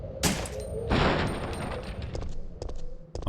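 Gunfire in Resident Evil 3: Nemesis (1999) comes as loud, close blasts: an opening shot, then a heavier burst, followed by a quicker run of smaller cracks and echoes.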